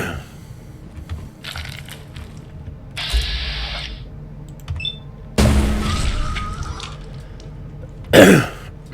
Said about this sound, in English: pardon me for clearing my throat there